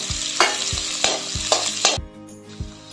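Onion and ten to twelve curry leaves fry in a pan with garlic for a Konkani raw mango curry, giving a loud close sizzle broken by repeated sharp stirring scrapes and crackles, with no talking.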